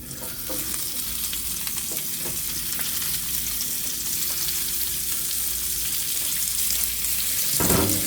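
Capsicum and onion frying in oil with beef masala for fajitas, a steady loud sizzle with occasional stirring scrapes and a louder burst near the end, no talking.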